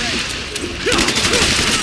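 Enemy gunfire in Marvel's Spider-Man Remastered, a short burst of rapid shots rattling loudly over tense game sounds and effects.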